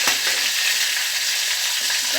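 Kodai fish fries in a pan with a loud, continuous sizzle, and a couple of soft scraping knocks sound as the soft fish is gently flipped.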